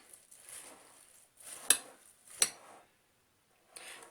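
Chinese cabbage salad being stirred in a bowl, with a soft rustle of leaves and two sharp clinks of a utensil against the dish, fairly close and quiet with brief pauses.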